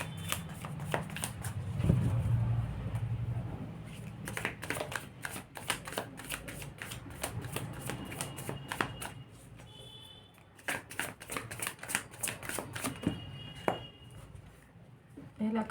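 Tarot cards are shuffled in repeated bursts of crisp riffling and slapping, close and fairly loud, while a voice talks at times.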